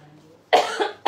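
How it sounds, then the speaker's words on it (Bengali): One person coughs: a sharp, close, loud burst followed by a second cough starting right after it, with near silence beforehand. "এত কাশি হয়েছে"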